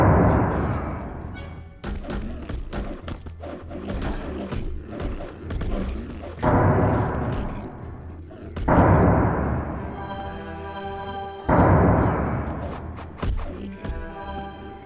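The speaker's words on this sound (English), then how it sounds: "I'm just gonna chuck a bunch of fire bombs at him" Fire bombs bursting in the Arcanum video game, a series of loud, booming explosions in close succession, with fiery roaring tails between the heavier blasts.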